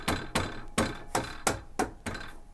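Hammer taps on a pinch-bolted steering column part from a 1989 VW GTI Mk2, with the ignition switch and lock cylinder assembly held in a vise: six sharp, evenly spaced metallic knocks, close and clear, with no talking.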